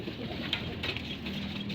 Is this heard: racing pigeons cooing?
yes